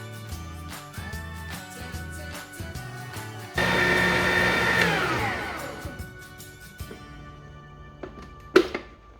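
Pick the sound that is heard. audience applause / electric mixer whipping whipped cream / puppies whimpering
electric mixer whipping whipped cream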